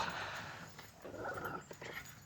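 Faint whimpering and whiny yips from small Miniature Pinscher and deer-head Chihuahua cross pups, soft and a little distant, over a steady background hiss.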